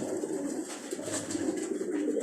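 A pet pigeon coos softly and steadily at close range on a rooftop loft, with no voices over it.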